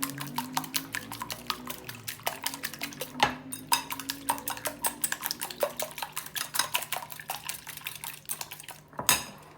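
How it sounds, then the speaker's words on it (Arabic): Eggs whisked briskly with a utensil in a bowl, a fast steady run of sharp clinks and taps against the sides, close and fairly loud with no talking. "نحاول نضرب هاد البيض مزيان"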